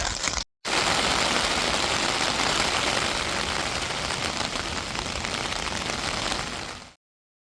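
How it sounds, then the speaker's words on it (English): Heavy typhoon rain in Tokyo pours down in a dense, steady roar, briefly cutting out near the start before resuming and then stopping abruptly. "That rain was so heavy, I just kind of stood still under my umbrella and embraced it"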